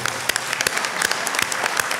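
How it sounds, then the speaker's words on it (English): A round of applause from a packed room at an Eastleigh by-election hustings, brisk close clapping from many hands that runs without pause through the whole moment. "let's start just with a round of applause for just how full this room is."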